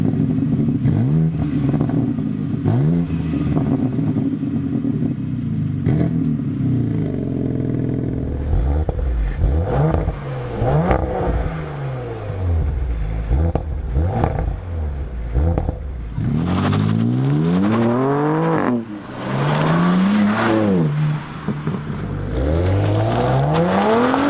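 BMW M4 and Audi RS5 performance coupés accelerating, loud close engine roars rising through the gears in repeated sweeping pulls over a steady rumble, with gear-change dips and some clatter.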